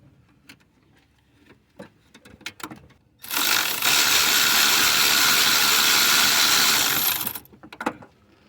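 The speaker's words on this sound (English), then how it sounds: "I'm gonna be using this one here. This is a flathead 10 millimeter socket." A ratchet with a 10 mm socket works a valve cover bolt on a 2001–2004 Nissan Pathfinder 3.5L engine, a loud rapid clicking burst lasting about four seconds, framed by faint taps and tool handling.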